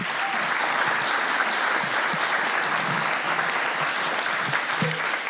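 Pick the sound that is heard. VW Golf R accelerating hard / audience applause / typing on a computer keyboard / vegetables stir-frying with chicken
audience applause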